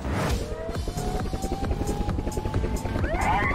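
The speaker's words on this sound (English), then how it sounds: "send the helicopter" A helicopter's rotor thumps and engine drones loudly and steadily, joined by a rising whine near the end.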